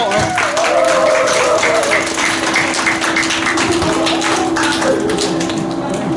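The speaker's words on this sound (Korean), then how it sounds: "나오실 때 큰 박수 부탁드리겠습니다." An audience claps steadily as a singer who performs folk songs comes on stage at a New Year show for elderly listeners. The dense clapping runs loud and continuous throughout, with no talking over it.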